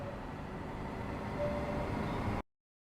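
A diesel multiple unit train in Train Sim World 4, on the Maintalbahn from Aschaffenburg to Miltenberg, rumbles in a steady low drone, with a faint whine rising briefly midway, before the sound cuts off abruptly into silence.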